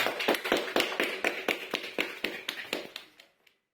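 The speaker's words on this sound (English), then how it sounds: "And we have a good applause." Toastmasters meeting attendees give a short burst of applause, a dozen or so distinct claps in a fairly even rhythm that fade out after about three seconds, leaving silence.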